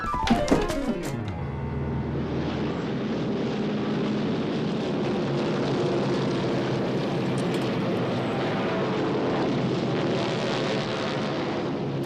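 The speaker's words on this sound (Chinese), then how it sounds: "是运输机，敌人想空投" A transport aircraft passes overhead in a war film, a steady, loud engine drone that fills the whole scene after a sharp burst of impacts at the start.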